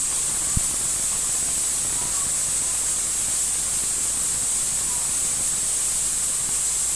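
A pressure cooker cooking khichuri lets out a steady, unbroken steam hiss after its whistle. One faint click sounds near the start, and no one speaks.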